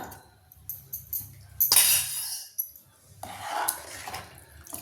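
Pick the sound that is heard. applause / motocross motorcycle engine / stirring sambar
stirring sambar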